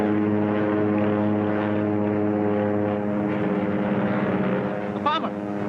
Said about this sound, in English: Look! That plane up there!